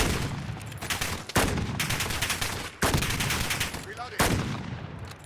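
Game-audio gunfire from an SPR 208 rifle being hip-fired in Call of Duty Modern Warfare: four loud single shots spaced about a second or more apart, each with a sharp crack and a ringing tail.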